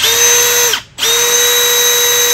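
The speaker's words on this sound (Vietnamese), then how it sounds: "Đó, đó là cây bắn vít ha." A Milwaukee 12V cordless drill/screwdriver whirs loudly and steadily with a high motor whine, stops briefly, then spins up again, running alone with no talk.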